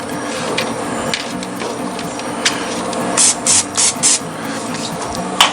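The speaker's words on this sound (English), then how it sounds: "just give them a very light coat of spray olive oil" Olive oil cooking spray misted onto raw shrimp on an outdoor grill: several short, close hissing bursts in quick succession over a steady background of low crackle and ambient noise.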